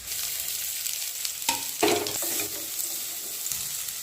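Urad dal and asafoetida frying in a pan, a steady close sizzle with stirring scrapes and a brief louder burst near the middle, no voices.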